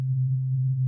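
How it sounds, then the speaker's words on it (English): A pure, steady sine wave from an analog modular synthesizer oscillator, a single smooth low tone held evenly and loud, alone without any voice. "First a sine wave."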